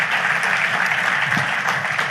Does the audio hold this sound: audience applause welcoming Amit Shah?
yes